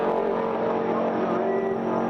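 Drag racing at a Street Eliminator summer nationals event, a newly repaired Nissan GTR racing down the strip: a loud, sustained engine roar holding steady throughout, dense and unbroken, with no talking.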